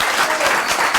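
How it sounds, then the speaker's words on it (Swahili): Lively audience applause for DNG at a talk show taping, a loud close burst of dense clapping with no voices over it. "Wapi makofi ya DNG?"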